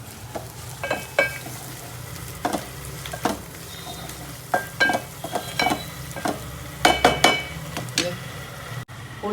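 Murrel fish fries in spiced oil in a pan, a steady soft sizzle broken by repeated scraping and clinking strokes as it is stirred.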